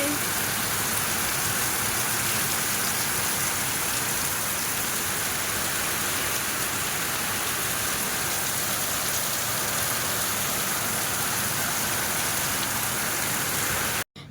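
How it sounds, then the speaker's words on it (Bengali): Heavy rain pours onto a flooded home courtyard, a dense, unbroken roar of falling water held at a constant loud level for the whole stretch before stopping abruptly. "দেখো কিভাবে মুষলধারে বৃষ্টি হচ্ছে, কতটা করে জল জমে গেছে আমাদের বাড়িতে"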